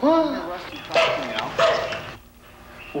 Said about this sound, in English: he'll start making a high-pitched, kind of a whining sound, almost as if he had laryngitis